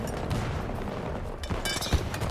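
Shotgun blasts in a shooter video game, fired at long range like a sniper rifle, a rapid cluster of loud close shots with a sharp crack near the end over a busy game background.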